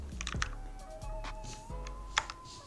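Soft, close typing on a computer keyboard while building a web page, a quiet run of uneven key taps and clicks with brief pauses and occasional sharper strokes, with no talking.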